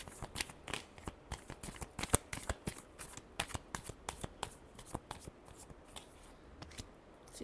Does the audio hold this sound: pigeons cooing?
no